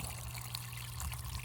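Water streams steadily through a gold sluice fitted with expanded metal during a black sand cleanup, a continuous close wash of trickling and splashing with a low hum beneath.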